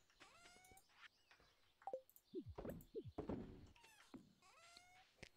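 Several soft meows from a cat in the video game Stardew Valley come in a scattered sequence, mixed with light game clicks and thumps at low volume.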